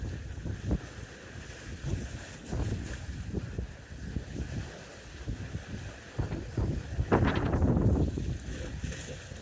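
Blustery coastal wind on Anglesey buffets the microphone in uneven low rumbling gusts, with a stronger, louder surge toward the end and no talking.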